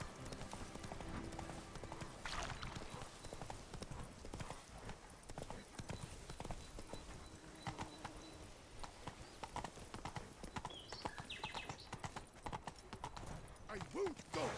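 Horse's hooves galloping in The Witcher 3 video game, a rapid repeated clip-clop running throughout, fairly faint with someone talking over it.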